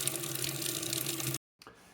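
Water gushes steadily from a VIWA drinking water filter tap turned fully open, a broad continuous rush that cuts off abruptly and then resumes more faintly.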